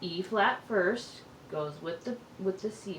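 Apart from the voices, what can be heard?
No everyday noises stand out.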